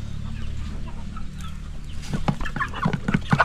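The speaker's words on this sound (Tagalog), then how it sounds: "yung labuyo" A labuyo, a Philippine native chicken, clucks in a quick run of sharp, close calls in the latter half, following a quieter stretch of farmyard background.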